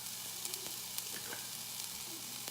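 Chopped red bell pepper and red onion are stirred in a hot pan for a breakfast taco, giving a steady soft sizzle with occasional faint scrapes, close and without talk.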